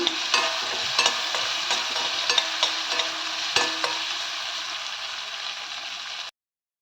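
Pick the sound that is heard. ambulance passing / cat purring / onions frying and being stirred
onions frying and being stirred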